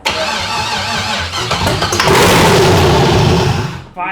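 An LS V8 swapped into a Mazda Miata cranks and fires for its first start-up, the starter whirring before the engine catches and roars loudly, close up and alone, then cuts out near the end.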